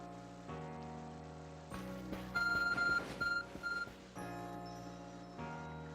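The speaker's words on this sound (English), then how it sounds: "Your arc phone is beeping." The Arc Phone in Pokemon Legends Arceus beeping, a short run of bright electronic chirps in a quick repeating pattern over soft game background music, fairly quiet, no talking.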